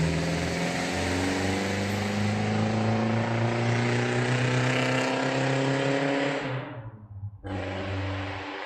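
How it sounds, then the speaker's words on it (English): A loud motorcycle engine drones steadily with a rising pitch as it accelerates, then drops off briefly before roaring again, close and dominant. "Noisy motorcycle."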